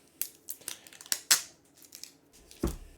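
Scotch tape ripped off a taped bundle of comic books: a handful of sharp, crackly tears and peels in quick succession, close and fairly quiet, with no talk.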